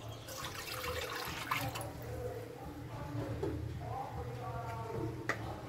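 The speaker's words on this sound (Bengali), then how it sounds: "ডিম সিদ্ধ করার জন্য আমি কড়াইয়ের মধ্যে পানি দিয়ে দেবো।" Water pours steadily into a wok to boil eggs, a faint continuous splashing stream lasting several seconds with a sharp metallic tap near the end.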